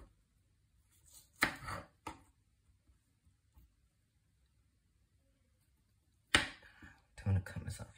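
A kitchen knife cuts through carrots in two sharp, isolated chops several seconds apart, each followed by a short scraping rattle, in an otherwise quiet room.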